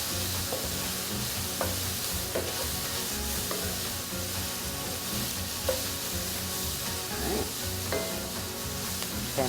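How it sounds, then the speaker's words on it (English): Grillades, pieces of meat browning in a pan for a Southern grillades and grits dish, sizzle loudly and steadily while a utensil stirs and scrapes at intervals, close up, with no talking. "we're going to keep stirring"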